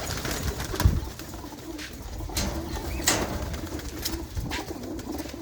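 Pigeons in a Punjab loft coo softly in low, repeated bursts, with a faint flutter of wings now and then, nearby and without talk.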